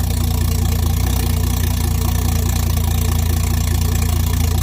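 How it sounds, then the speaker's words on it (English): Big-turbo Toyota 1JZ engine in a GS300 running steadily with an open downpipe, a loud, close, continuous rumble with no change in pitch. "You see that turbo wheel? That thing does not stop spinning."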